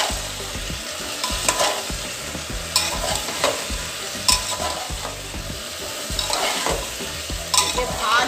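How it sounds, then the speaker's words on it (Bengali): Chili powder and spices stirred and sautéed in a frying pan while cooking young jackfruit, with a continuous oily sizzle broken by repeated scraping strokes of the spatula, close and fairly loud, no voices. "ভালো করে কষাতে হবে।"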